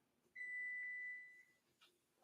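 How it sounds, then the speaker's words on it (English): A kitchen oven gives one steady electronic beep lasting about a second, followed by a brief faint blip, heard alone in an otherwise quiet room. "Why is it beeping?"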